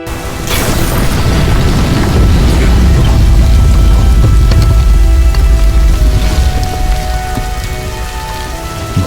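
Heavy rain pours down loudly and continuously, a dense roar of drops on surfaces with low rumbling underneath.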